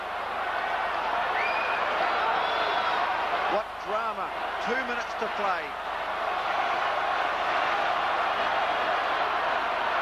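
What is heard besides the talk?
large crowd cheering at rugby sevens final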